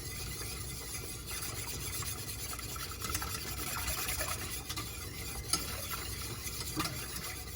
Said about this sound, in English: Now I'm going to add in the remaining of the milk and cream mixture